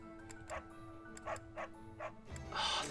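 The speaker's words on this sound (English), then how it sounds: "Ah, the dog." Dog barking in the video game Fire Emblem: Three Houses, several short yips and woofs spaced at an uneven rhythm over a steady background music bed, moderately loud and close.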